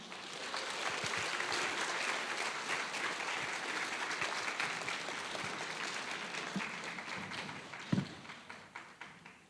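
A church congregation claps steadily through a Sunday worship service, welcoming a child to the front, then the clapping tapers into a few scattered last claps.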